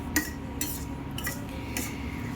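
Masala bread being sautéed in a pan, a metal utensil scraping and tapping the pan in three or four separate strokes over a quiet background hiss.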